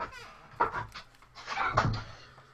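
A dog whimpers close by in soft, uneven whines and snuffly breaths that rise and fall over a couple of seconds.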